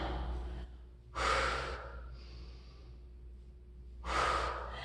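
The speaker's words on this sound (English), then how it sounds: "So exhale up, inhale down." Someone breathes audibly through a dumbbell chest exercise, with a close exhale, then a deeper inhale, then another exhale, slow and rhythmic over a low steady hum.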